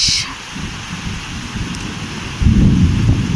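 Steady rain hisses throughout while low thunder rumbles beneath, swelling louder near the end.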